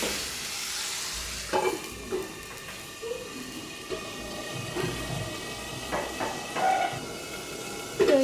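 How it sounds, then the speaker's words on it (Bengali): Chicken fries in a pan, a low steady sizzle broken by repeated scraping and knocking stirs at irregular intervals, fairly close and moderately quiet. "এবার একটু নেড়ে দিয়ে আমি ঘুরে দেবো"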